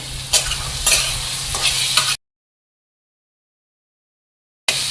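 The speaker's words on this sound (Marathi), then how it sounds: "हा मसाला थोडासा परतला की यामध्ये आपण वाटाणे परतून घेऊयात" Green peas stirred and sautéed in a pan of garlic, cumin, green chilli and curry leaf paste, a steady close sizzle with a few scraping stirs, cut off abruptly by a silent gap before resuming.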